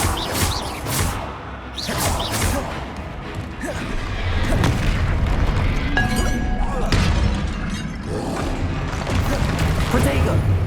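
Blasting-spell explosions in Hogwarts Legacy burst in a rapid series of loud booms, shattering crashes and thuds against busy game effects and music, with no lull between the blasts.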